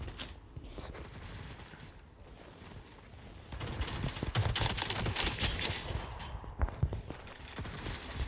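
In the shooter game Modern Strike Ops, bursts of automatic gunfire come in waves, starting muted and growing louder and denser toward the end, with sharp single reports standing out late in the clip.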